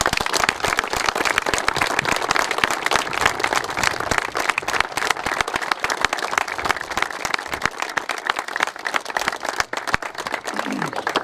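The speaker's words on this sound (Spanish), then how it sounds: "volver a pedir otro fuerte aplauso para él" A crowd at a Fierros 2021 event breaks into strong, sustained applause, dense rapid clapping that runs continuously and fairly loud throughout.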